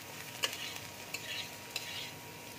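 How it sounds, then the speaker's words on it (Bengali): Chopped green chilies hit a hot pan of frying snack mixture. A steady, fairly quiet sizzle follows, with a few sharp clinks of stirring near the start and middle. No one speaks. "এবার আমি কাঁচা লঙ্কা কুচি দিয়ে দিচ্ছি।"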